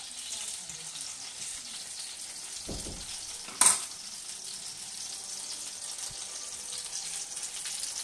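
Cherry tomatoes fry in a pan, giving a steady, close sizzling hiss with a brief louder crackling burst midway as they are stirred or turned.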